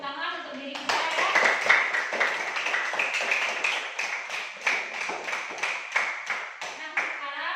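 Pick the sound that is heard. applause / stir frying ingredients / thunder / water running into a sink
applause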